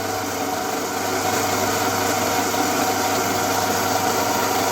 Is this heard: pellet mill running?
yes